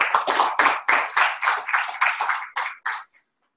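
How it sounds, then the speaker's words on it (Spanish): Brief applause for a speaker at a Spanish-language talk on cardiovascular health in people under 40, a short burst of hand claps lasting about three seconds before stopping. "Un aplauso para..."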